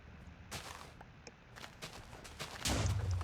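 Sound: explosions, from video game Minecraft Lucky Block Sky Wars

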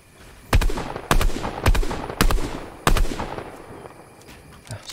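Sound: gunfire in a video game

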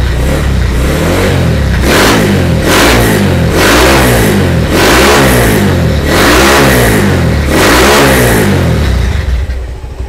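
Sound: Honda GL100 motorcycle engine revving, Tiger carburetor

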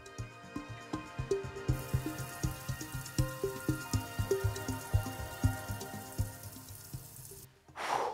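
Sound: water running from a camper van shower

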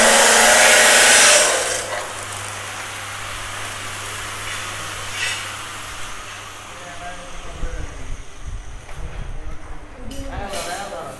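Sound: corn threshing machine running in a workshop

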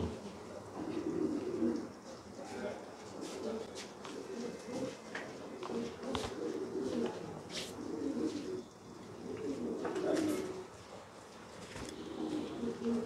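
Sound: homing pigeons cooing

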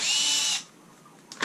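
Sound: power drill removing screws from an ADJ Inno Pro light

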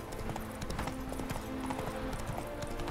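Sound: horse hooves while riding Roach in the video game The Witcher 3

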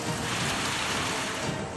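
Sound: continuous monsoon rain

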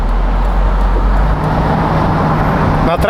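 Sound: Mitsubishi Eclipse Spyder 3.8 car driving onto the road

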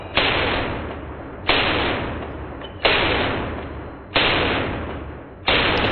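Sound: AK pistol gunfire, shot without sling like a handgun

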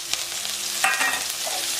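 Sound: coriander and curry leaves sizzling in a frying pan

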